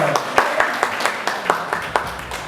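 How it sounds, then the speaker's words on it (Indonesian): A small classroom audience of teachers claps for a volunteer named Mas Susilo, a brief patter of scattered, uneven handclaps over about two seconds. "Tepuk tangan dulu untuk Mas Susilo"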